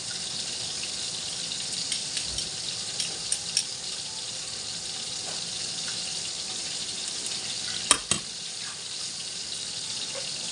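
Three pieces of tilapia fry in a small pan (kawali), giving a steady, close hiss of sizzling oil throughout with a few soft clicks and a brief sharper pop near the end.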